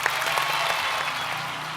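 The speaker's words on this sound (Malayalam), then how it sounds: "എല്ലാവരോടും ചേർന്ന് ഫരീസിന് ഒരു കൈയടി പോരട്ടെ" An audience claps together for a participant at an Onam roadshow event, a dense, steady burst of applause from a nearby crowd lasting throughout without a break.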